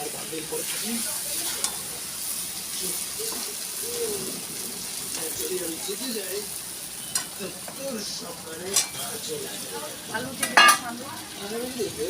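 Potatoes go into a pan of sizzling chicken kosha, giving a steady, moderate frying hiss with a few sharp metallic clinks near the end, while muffled voices murmur faintly in the background.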